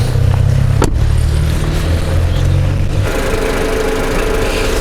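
A 2.4 Tiger Shark engine idles under the hood of a restored crossover, a loud, steady mechanical drone with a low rumble that shifts slightly in tone partway through, close and continuous.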